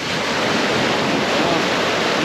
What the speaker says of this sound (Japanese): いいですね、波高い